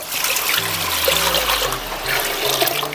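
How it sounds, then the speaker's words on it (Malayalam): Water pours steadily into a pressure cooker holding mutton, a close, continuous gushing splash that runs unbroken for the whole stretch with no talking. "ആവശ്യത്തിനുള്ള വെള്ളം ഒഴിക്കുക"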